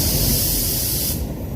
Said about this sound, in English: I'm going to put some base coat down now